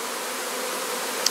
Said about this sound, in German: fliegen die Bienen ja wieder hin zum Ast